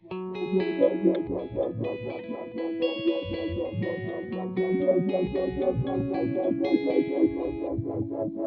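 Matthews Technician delay/reverb/looper pedal adding repeating delay to an electric guitar, sustained chords and notes with echoing trails layered continuously at steady loudness, no voices.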